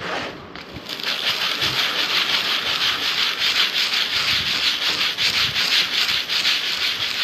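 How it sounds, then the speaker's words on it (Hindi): Wet texture paint is rubbed by hand on a surface to create an art effect, giving a continuous rough, scratchy rubbing sound in rhythmic strokes, loud and close, with no talking. "इसको हमको गीला में ही घिसना पड़ेगा"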